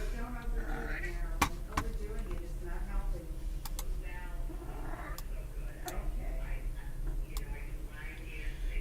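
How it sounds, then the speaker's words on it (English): A cat meows repeatedly indoors, close by, while a person talks over it and a clock ticks faintly in the background. "You're just meowing at me"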